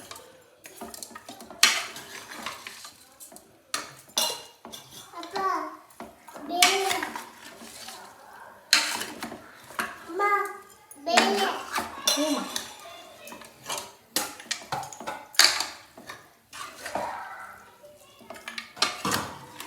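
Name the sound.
mutton being mixed by hand with spices in a pot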